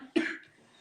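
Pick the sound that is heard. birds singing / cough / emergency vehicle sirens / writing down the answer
cough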